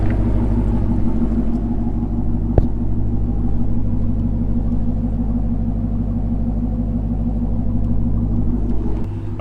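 Steady low rumble from a 2021 Jeep Gladiator fitted with a Hellcat engine, idling loud and close with a continuous throbbing drone and one sharp click partway through.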